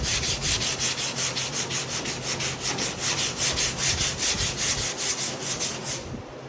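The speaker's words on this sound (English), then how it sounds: "Always do a crisscross pattern when you're blocking. Go one way, then back the other way." Body filler being block sanded in a crisscross pattern during car body prep: steady, rhythmic back-and-forth rasping strokes, close and loud, about three strokes per second, continuing without pause and with no voices.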